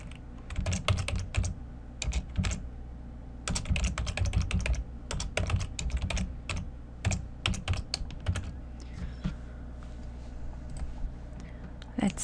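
Fast bursts of computer keyboard typing, close and crisp, come in quick clusters separated by short pauses, with a few clicks and no voice.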